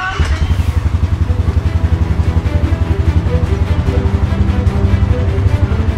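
A 2023 Polaris Sportsman 570 Trail Edition ATV engine running close by with a steady, throbbing low idle pulse, loud and even, and a person talking over it.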